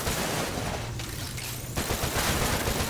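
Rapid automatic weapon fire in the VR shooter game Stormland, a dense fast volley of shots held at an even level throughout.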